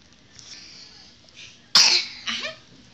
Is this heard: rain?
no